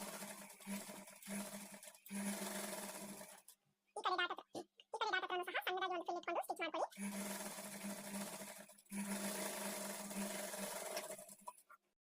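A sewing machine stitches blouse fabric in long, steady whirring runs, loud and close, stopping briefly while someone talks and then resuming.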